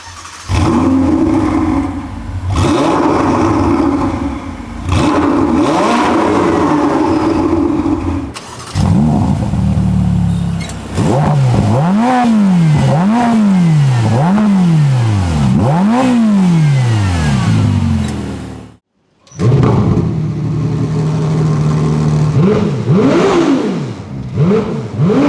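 Three Ferrari mid-engine V8 supercars, a 488 GTB, an F8 Tributo and a 296 GTB, are revved in turn. Loud, close blips rise and fall in repeated rhythmic bursts, with a brief silent gap between cars and no talking.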